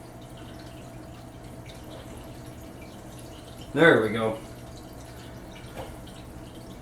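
Water from an aquarium sponge filter trickles and drips faintly, then a louder splash rises for about a second before fading back to a low steady burble; a voice speaks briefly.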